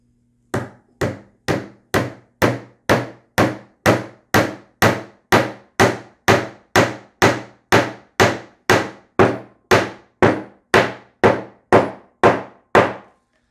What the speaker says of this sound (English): now I just need a small hammer.